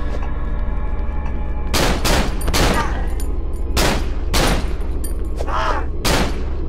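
Gunshots in the horror game Cry of Fear, a series of loud close shots fired at irregular intervals, each with a sharp crack and a short ringing tail.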